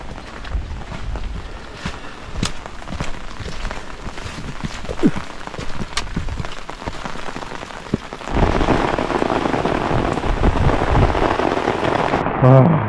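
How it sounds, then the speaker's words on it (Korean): Heavy rain pours over a mountain valley trail in Bukhansan, pattering steadily and close on an open umbrella before swelling abruptly into a louder, denser downpour partway through, with no talking. "비가 막 들이칩니다"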